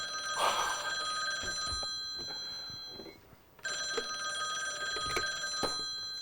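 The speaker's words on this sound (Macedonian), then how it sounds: "Уште да задзвонеше телефон, имаше да биде лошо." Telephone bell rings in two separate bursts with a short silent gap between them, clear and fairly close in a quiet indoor studio setting.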